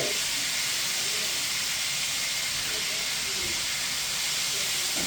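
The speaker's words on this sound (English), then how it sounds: "So I'm going to put the brats over. And I'm going to cook it on low." Brats cook over a strong gas burner set on low, giving a constant even hiss and sizzle throughout with no talk.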